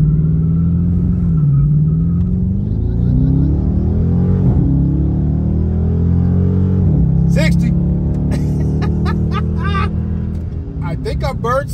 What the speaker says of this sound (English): I have my foot flat on the brake, and what it wants you to do is apply full throttle.